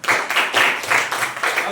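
Classroom audience clapping after a student group's presentation, a dense burst of many hands applauding in pulsing waves, close and fairly loud.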